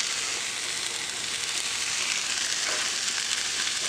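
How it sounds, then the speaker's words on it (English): Chicken sizzles and fries on a hot grill in a home-style Chinese dish, a steady loud crackling hiss that holds throughout with no speech. "So you can actually hear that sizzle"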